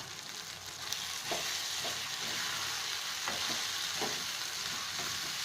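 Pepper chicken made with country chicken, cooked dry, sizzles and fries in a pan as it is stirred after coriander leaves go in, with soft scraping strokes repeating under a steady hiss.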